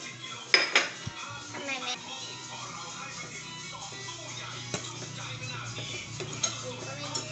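Metal pot and utensil clatter while fresh glass noodles go into a Thai chicken curry pot, a few sharp clinks near the start and scattered light knocks after, with someone talking over it.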